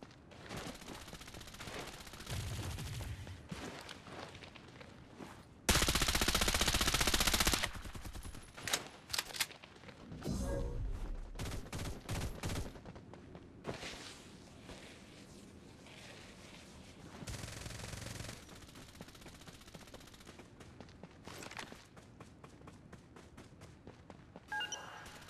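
Rapid gunfire bursts from the battle shooter Farlight 84 crackle in dense volleys, with a loud sustained barrage and choppy automatic rattles between quieter stretches.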